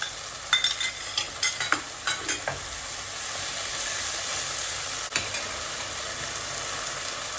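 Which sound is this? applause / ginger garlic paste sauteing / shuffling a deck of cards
ginger garlic paste sauteing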